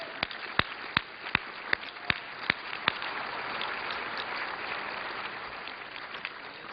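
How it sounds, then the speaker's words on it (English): Audience applause after a governor's speech at an evening political event, opening with several sharp, distinct claps that blend into a steady wash of clapping from a sizable crowd, moderately distant and without speech. "Give another round of applause for Governor Perry."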